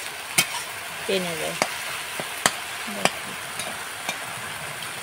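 Hilsa fish head and taro leaves stirred in a pan, a spoon scraping and tapping the pan in sharp irregular knocks over a soft steady sizzle, with a brief word spoken partway through.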